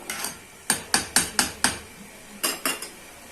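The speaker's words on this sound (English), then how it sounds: "Stir it together so that the ingredients will be well mixed." A spoon clinks and scrapes against a pot while catfish soup is stirred, giving about ten sharp metallic taps in uneven bursts, close and fairly loud with no talk.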